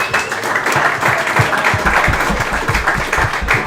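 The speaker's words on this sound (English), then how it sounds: "So please give yourselves a round of applause." Applause from a boys soccer team and guests at a pizza restaurant, a dense burst of close clapping with some voices mixed in, steady throughout.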